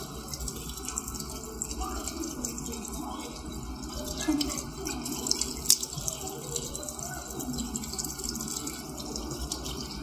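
Tap water runs steadily at a sink during face washing, a continuous close hiss with small splashes and drips, no talking.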